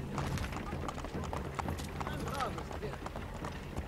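Horse hooves clop steadily at a trot in Assassin's Creed 3 under continuous talking, with a low hum and game-like ambience behind.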